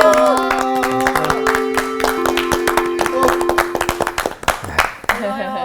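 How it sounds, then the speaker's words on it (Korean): Audience clapping for a speaker at a church lecture, sharp scattered claps that build into a brisk ragged patter under a sustained tone and voices. "이렇게 박수 받으니까 막 힘이 나요"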